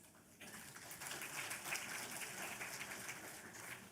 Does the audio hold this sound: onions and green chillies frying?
no